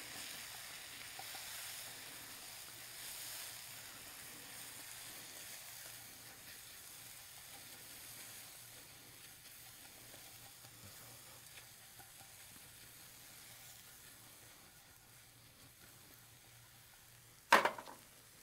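Eggs seasoned with salt and pepper are stirred together with other ingredients in a pan, making a faint, steady sizzle. A sharp clatter comes near the end.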